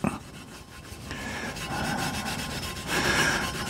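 Hand rubbing of grimy alloy on a Honda GL1000 Goldwing with Autosol metal polish, a steady close scrubbing that builds slightly in loudness over a few seconds, with no talking.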